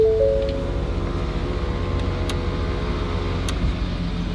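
Gen 2 and Gen 3 Ford Raptor pickups, one Stage 2 tuned, launch side by side in a drag race in sport mode, a loud, steady engine roar with deep harmonics that holds at high revs for a few seconds, heard from close by with no talk.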